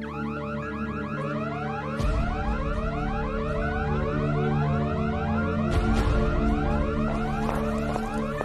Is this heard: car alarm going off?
yes